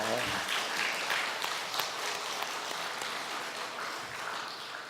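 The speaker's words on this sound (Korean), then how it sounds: "이럴 땐 박수 치는 거예요" Scattered applause from a church audience during a sermon, a soft, diffuse clapping wash that stays fairly even and subdued, with a voice faintly present beneath it.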